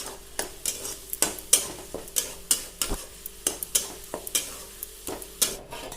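Masala spices frying and spluttering in hot oil while being stirred, with a steady run of sharp scraping and clinking strokes of a utensil against the pan over a constant sizzle, close and moderately loud.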